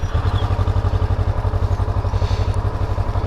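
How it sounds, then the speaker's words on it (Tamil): A Kawasaki Ninja 650 motorcycle idles just after starting, a loud close engine with a fast, even low thumping pulse and a faint hydraulic whine, running steadily on its own. "ஸோ ஸ்டார்ட் பண்ணோடனே வந்து இந்த ஹைட்ராலிக் சவுண்ட் வருது பார்த்தீங்களா"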